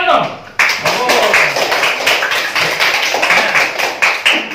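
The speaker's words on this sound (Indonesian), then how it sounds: "Oke, tepuk tangan dong." A classroom of students clapping together in a rapid burst of dense, overlapping hand claps, close and loud, starting abruptly and continuing steadily with voices mixed in.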